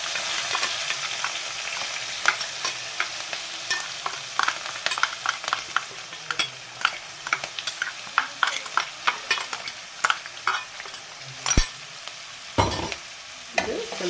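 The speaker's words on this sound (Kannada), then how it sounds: "ಸ್ವಲ್ಪ ಕರಿಬೇವು, ಮೆಣಸಿನ್ಕಾಯಿ ಪೇಸ್ಟ್ ಮಾಡ್ಕೊಂಡಿದ್ರಲ್ಲ ಮೆಣಸಿನ್ಕಾಯಿ ಹಾಕೋಣ" Curry leaves and chilli paste fry in a pan for sweet pumpkin palya, a steady close sizzle broken by crackles and regular scraping stirs.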